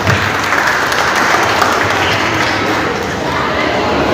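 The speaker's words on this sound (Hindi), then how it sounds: "ताली बजाइए।" Loud, continuous clapping from a crowd at a school's foundation day celebration in Ghazipur, a full, even wash of hands with faint voices mixed in, tapering slightly toward the end.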